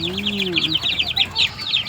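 Native chickens cluck in quick, close bursts, while a voice speaks briefly at the start.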